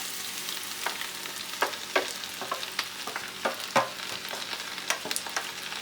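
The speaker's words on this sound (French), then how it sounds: "mon huile est chaude. Je mets mes oignons émincés." Sliced onions drop into hot olive oil in a cooking pot and fry with a steady, close sizzle, broken by repeated scraping stirs and light knocks of a utensil against the pot.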